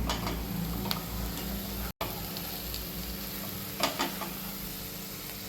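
Eggs sizzle as they fry in masala in a pan, a steady close crackle broken by a brief cutout and a few sharp ticks of stirring.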